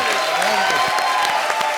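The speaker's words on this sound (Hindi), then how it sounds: "एक बार जोरदार ताली।" An audience at a comedy show applauds, a dense burst of clapping from a crowd with some light cheering mixed in, loud and continuous for a couple of seconds.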